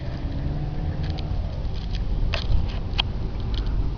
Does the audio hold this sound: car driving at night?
yes